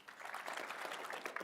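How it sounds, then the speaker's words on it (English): Applause from a live panel audience for a panelist, a steady crowd clapping that holds evenly at moderate volume throughout, with no talk over it. "Open Source Man gets the round of applause"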